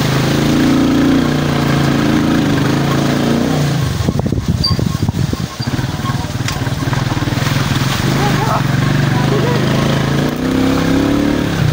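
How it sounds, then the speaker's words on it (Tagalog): A motorcycle engine runs continuously up close with a steady low drone while people talk urgently over it during the ride. "Nakasakay na tayo ng motor."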